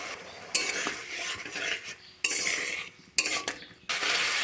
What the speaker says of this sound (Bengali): একটু জল দিয়ে মশলাটা কষিয়ে নেব।